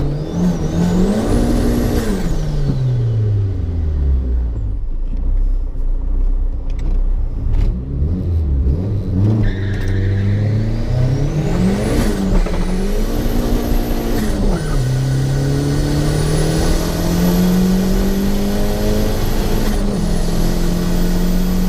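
A car accelerates hard down a quarter-mile drag strip, with the engine note climbing through several gears and shifts. It is heard loud and close from inside, with tyre and wind noise and no talk.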